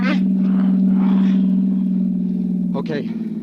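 Steady engine hum of a car in an old radio drama, a constant droning tone under brief bursts of voices, with the engine note dropping near the end.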